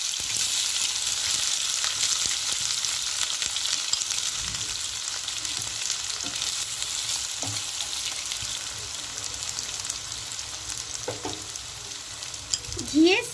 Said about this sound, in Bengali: এবার দিয়ে দিচ্ছি এর মধ্যে পেঁয়াজ কুচি।